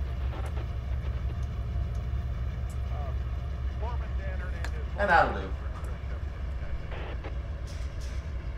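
A train rolls slowly into a siding on Cajon Pass with a low, steady rumble. Squeals and creaks from the wheels come through now and then, and a brief voice speaks once.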